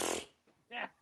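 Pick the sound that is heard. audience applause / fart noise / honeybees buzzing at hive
fart noise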